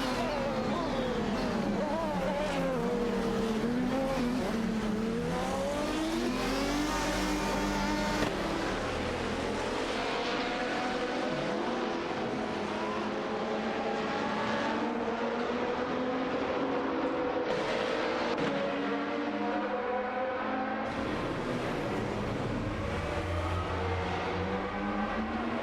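Race cars roar around a track in a racing video game, several engines whining and shifting pitch at once in a constant dense wall of sound that stays loud throughout.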